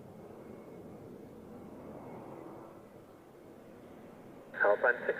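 A Swiss A320neo on approach at Zurich gives a faint, distant, steady roar for several seconds, followed by a brief crackle of radio chatter.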